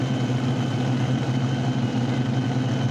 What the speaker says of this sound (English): Fans love these multi-engine machines, and they are loud